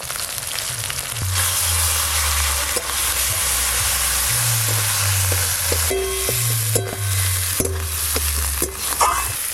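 Ground paste of ginger, cumin and dried red chilli with turmeric frying in a pan for a fish curry, a loud continuous sizzle with repeated scraping strokes of stirring and a few sharp clinks of the utensil.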